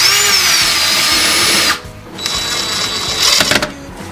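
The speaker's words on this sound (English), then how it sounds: "we're going to drill a few pilot holes" A power drill whines steadily while boring pilot holes into a door for a new lock, running hard, cutting out briefly, then starting up again with a few rattling bumps near the end.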